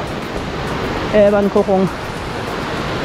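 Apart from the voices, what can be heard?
rushing water of Bagyangon Falls waterfall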